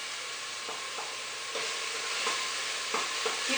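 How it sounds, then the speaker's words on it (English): Garlic sautéing in a pan gives a steady broadband sizzle, with a few soft stirring scrapes over it and no voices. "When you saute garlic, you can smell and light browns."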